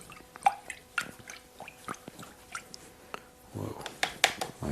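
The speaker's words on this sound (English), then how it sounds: "let's rinse this brush out." A paint brush is rinsed in water during an oil painting session, giving soft splashes and drips. A brief swishing swirl comes near the end, and the sounds stay quiet and close.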